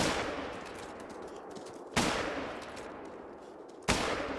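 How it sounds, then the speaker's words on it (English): Three gunshots in the hunting game Call of the Wild, each a loud sharp blast followed by a long rolling echo, spaced about two seconds apart. "Three shots."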